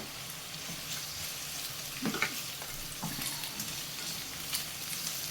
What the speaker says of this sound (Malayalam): ഇതും കൂടെ ചേർത്ത് കൊടുത്തിട്ട് നല്ലതുപോലെ ഒന്ന് ഇളക്കി മിക്സ് ചെയ്യുക